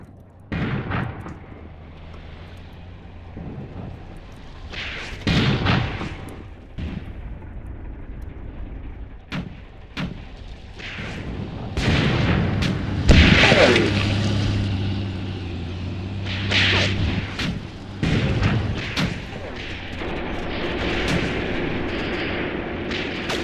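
Tank gunfire in a Tunisia 1943 tank warfare game at Chouigui Pass, repeated heavy cannon blasts and bursts of gunfire at irregular intervals over a rumbling engine and battle din, with no talk.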